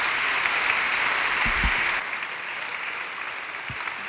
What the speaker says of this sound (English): Another big round of applause for our presenter